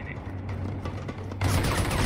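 Gunfire in a video game: muffled shots at first, then a loud rapid burst of fire that fills the end of the clip.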